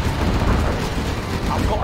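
A dense, loud artillery barrage in the Command & Conquer Zero Hour strategy game, with booming explosions blending into a continuous rumbling roar and a voice briefly heard over it.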